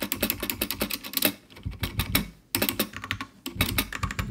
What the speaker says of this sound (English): You can really hear that space bar.